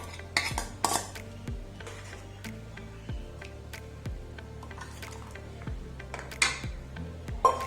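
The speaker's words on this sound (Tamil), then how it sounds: "அரைச்சதை இதில் போட்டு நல்லா மிக்ஸ் பண்ணிடலாம்." A spoon stirs ground paste into a pot of turkey berry curry, with clinks of metal against the pot at a steady, unhurried rhythm, close and moderately loud, alone with no talking.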